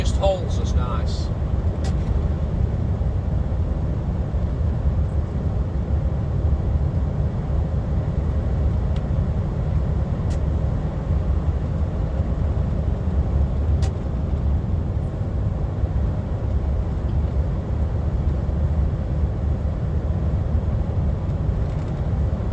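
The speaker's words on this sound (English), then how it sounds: "Exhaust brake, just holds us nice." A DAF XF truck rolls downhill on a UK A-road with its exhaust brake engaged, giving a steady, continuous low engine and road roar that holds throughout without pauses.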